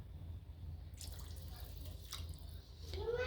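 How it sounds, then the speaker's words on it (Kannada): Water poured from a glass onto rice in a pot for vegetable pulao, two glasses of water for three-quarters of a glass of rice. A soft, close splashing stream rises in pitch as the vessel fills near the end. "ಮುಕ್ಕಾಲು ಗ್ಲಾಸಷ್ಟು ಅಕ್ಕಿಗೆ 2 ಗ್ಲಾಸು ನೀರು ಹಾಕ್ತಾ ಇದ್ದೇನೆ"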